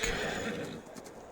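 A horse whinnies in Farming Simulator 22 over a steady background, with faint hoof clatter; no talking.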